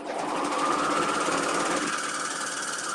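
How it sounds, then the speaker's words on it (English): A serger sewing machine stitching and forming a thread chain runs continuously at a fast, steady rattle, close and loud with a faint whine, with no talking. "So I'm going to just start sewing."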